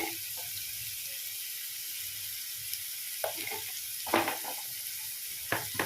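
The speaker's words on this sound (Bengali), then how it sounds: "আদা রসুন পেঁয়াজ কাঁচা লঙ্কা কোচানো এগুলো ভালোভাবে ভেজে নেব" Faint, steady sizzle of ginger, garlic, onion and green chilli frying in oil, with a few clinks and scrapes of a utensil stirring the pan near the end.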